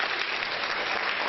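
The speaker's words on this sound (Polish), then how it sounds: "Wielkie brawa dla nich." Audience applause for award nominees at a local awards gala fills a hall, dense and steady clapping over a brief stretch, heard alone without talk.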